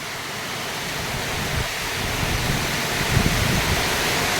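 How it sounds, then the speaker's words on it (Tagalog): Heavy typhoon rain and strong wind pounding down in a continuous broadband roar, steady and loud with slight gusting swells, no voices. "isang malakas na hangin at ulan ang ngayon nating nasaksihan"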